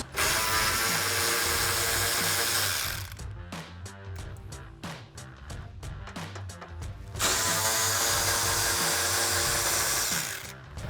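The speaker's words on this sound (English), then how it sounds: "So I'm going to take my 10mm socket on my ratchet and remove those." Hand ratchet with a 10mm socket loosening the inner bumper nuts on a 2005-2009 Ford Mustang, heard as steady close clicking that breaks into a run of short separate clicks in the middle before the continuous ratcheting resumes.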